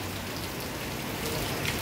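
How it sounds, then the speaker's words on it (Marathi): Heavy unseasonal rain pours down on the town of Degloor during a thunderstorm, a dense, even hiss of drops drumming on surfaces that fills the whole moment without letup. "आतासुद्धा पाऊस या ठिकाणी पडतो आहे"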